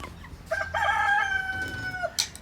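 A rooster crows once, a loud, close, drawn-out cock-a-doodle-doo with a short clucking note at the end, with no voices.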